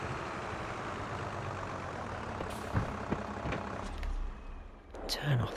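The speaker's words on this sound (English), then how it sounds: "Turn off the engine." A truck engine idles in Farming Simulator 22 as a steady, close broadband rumble, with a few brief knocks and a short swell near the end.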